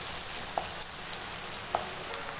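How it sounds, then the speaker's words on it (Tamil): Onions sautéing in a pan for a kulambu, a quiet, even sizzle with a couple of faint clicks of a utensil, heard close and alone. "வெங்காயத்தை சேர்த்துட்டு வதக்கி விட்டுருங்க."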